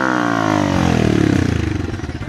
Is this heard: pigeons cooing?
no